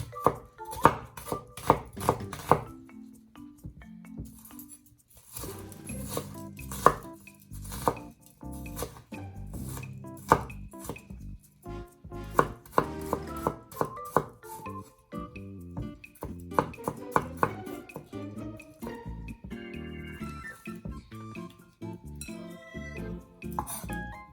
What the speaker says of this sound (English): we're going to chop up our onions and our garlic